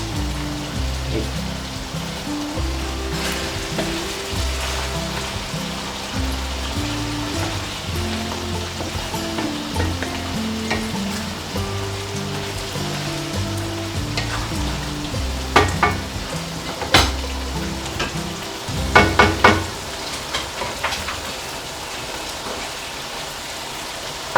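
Lamb karahi sizzles in a pan as it is stirred, a constant close frying hiss with a rain-like crackle and occasional scrapes and clinks of the spoon, growing busier toward the end, with no talking.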